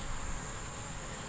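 Honey bees buzz continuously close by at a hive's bottom board, a steady high drone with no breaks.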